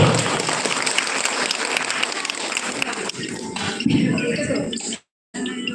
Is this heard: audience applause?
yes